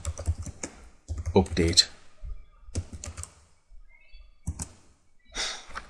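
Bursts of computer keyboard typing as a terminal command is entered on Ubuntu Linux, quick clustered key clicks near the microphone, interleaved with someone talking.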